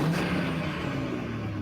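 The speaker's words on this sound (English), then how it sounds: "let's give the RS3 some revs and see how it sounds" An Audi RS3 with catless downpipes revs in a brief, fairly quiet rumbling drone with a steady low tone.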